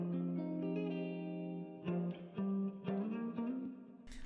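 A Kontakt instrument sample heavily granulated through Output Portal for an R&B beat, heard as sustained shimmering harmonic tones with stuttering grain bursts and a brief noisy flutter at the end, alone with no talk.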